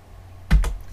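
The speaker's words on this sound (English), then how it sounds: "let's try typing Q." Two quick clicks of computer keyboard keys, typing in the OpenBB Terminal software, crisp and close, in an otherwise quiet room.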